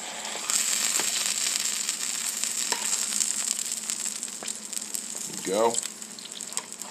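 Smash tortilla burger patties frying on a hot griddle give a steady bright sizzle throughout, with a brief scrape near the end and a short spoken word over it.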